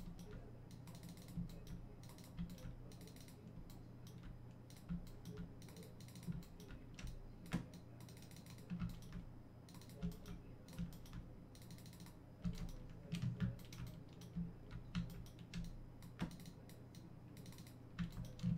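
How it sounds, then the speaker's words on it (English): Rapid, continuous clicking of a computer mouse and keyboard while sculpting a 3D model, with dense, quiet, close taps and clicks in an uneven stream and no talking. "But yeah, you can hear me clicking like crazy or what?"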